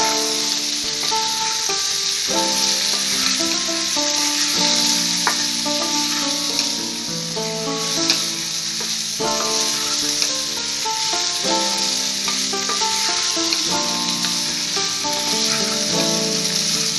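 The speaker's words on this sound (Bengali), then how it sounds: "এবার আলুটাকে হালকা ভাজবো, কারণ আমি আলুর তরকারিটা একটু সাদা টাইপের করবো" Potatoes frying in oil seasoned with salt and turmeric, a steady close sizzle with occasional stirring scrapes and clinks throughout, no voices.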